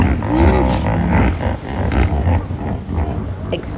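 Hippos by a river give deep, loud grunts and rumbling bellows in repeated bursts, with rough roaring textures overlapping against outdoor background noise.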